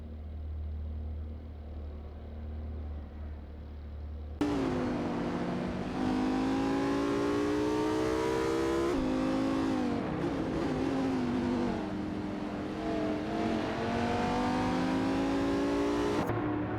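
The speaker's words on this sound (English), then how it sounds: "All cars are pushing hard as they navigate through the track." Several race cars in a racing video game, including a Jaguar F-Type SVR, rev and accelerate hard around a track, with a loud, continuous engine roar that rises and falls as gears shift, starting after a quieter opening stretch.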